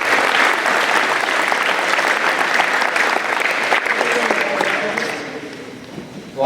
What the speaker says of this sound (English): I'd like also to give the PTO a round of applause for all their support and efforts.